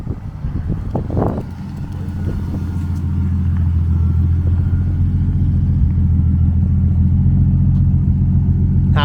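A big-turbo BMW E36 drift car's engine, a deep steady low rumble that builds slightly after a brief clattering start, then holds loud and continuous with no talk.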